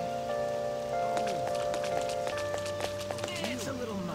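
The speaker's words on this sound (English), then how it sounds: "I don't like all this rain." Rain in Persona 5 Royal falls as a steady hiss and patter under soft sustained musical tones, with scattered light tapping drops throughout.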